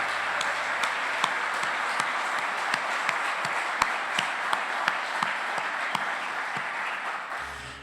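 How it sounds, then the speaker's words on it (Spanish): An audience at a men's prayer plenary applauds the organizers with a dense, steady wash of clapping and a few sharper individual claps standing out, lasting about seven seconds before cutting off abruptly. "Le damos un aplauso a todos los organizadores."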